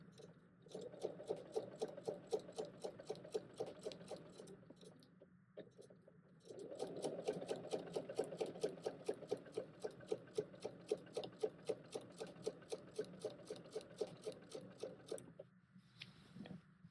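A sewing machine stitches along a quilt seam with a fast, even rhythmic needle patter over a low motor hum. It pauses briefly twice, then resumes at a steady pace, recorded close and fairly quiet with no voices.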